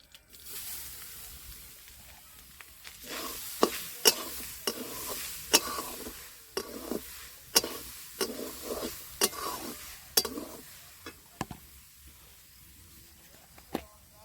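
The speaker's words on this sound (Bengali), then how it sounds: "তার জন্য ঘি দিয়ে দিচ্ছি। এবার নারকেলটার মধ্যে দিয়ে দেবো।" Grated coconut being stirred into hot ghee, a quiet sizzle broken by repeated rhythmic scraping strokes of the spoon against the pan, with brief talk.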